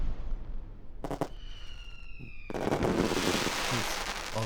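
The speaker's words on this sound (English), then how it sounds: "they actually added the sound effects pretty much exactly like real fireworks sound" Fireworks bursting in Kerbal Space Program: a few sharp cracks, falling whistling tones, then a loud sustained crackling shower of sparkling pops filling the rest.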